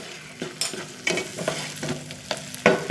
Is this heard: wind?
no